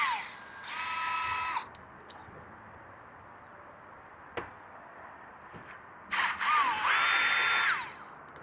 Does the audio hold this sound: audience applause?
no